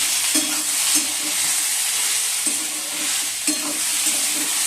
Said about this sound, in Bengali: এই আলুটা ভাজছি